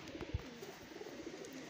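Sialkoti pigeons with pearl markings cooing softly in a loft, a faint repeating low throaty coo with a light thump near the start, quiet and close.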